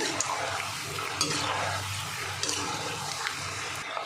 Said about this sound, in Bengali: বাদামগুলো ভেজে নেব।